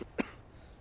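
A single short, close cough from a character in a Halo Reach machinima, a sharp burst that fades quickly into quiet room tone.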